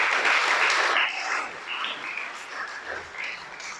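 A church congregation applauds during a sermon, a brief burst of clapping that fades, with whistles and cheering calls over it and no speech.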